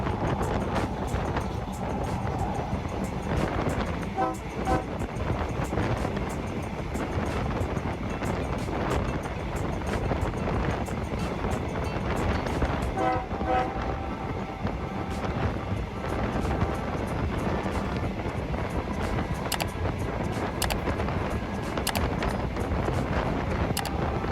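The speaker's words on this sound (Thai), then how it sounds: "กำลังเข้าสู่สถานีรถไฟปากท่อแล้วนะครับ" A steady low rumble of a train rolling into Pak Tho railway station, Thailand, with metallic screeching and faint clanks as it slows, continuous and fairly close.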